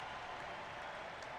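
Crowd at a Wright State men's basketball home game in Dayton, Ohio, a steady wash of cheering and applause filling a brief moment, loud and continuous with no break.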